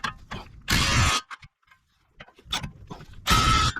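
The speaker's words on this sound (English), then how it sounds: "Don't forget to tighten up the caliper mounting bracket bolts" Bolts on a Kia Soul's front brake caliper mounting bracket being tightened with a ratchet, two loud bursts of rapid clicking separated by quieter taps and a brief pause.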